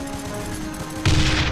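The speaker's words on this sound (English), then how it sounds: "click on the barrels with the right mouse button to get your handgunners to loose off a few rounds" Handgunners fire a volley of rounds in Warhammer: Mark of Chaos, a loud, dense burst of gunfire erupting about two-thirds of the way in over a steady game backdrop.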